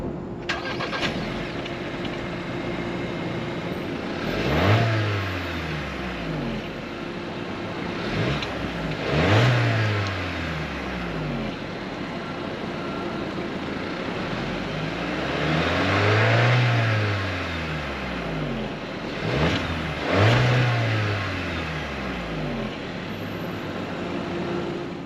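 A 2025 VW Taos engine revs up and falls back four times in a regular cycle, each surge rising loudly over a steady idle, with no talking.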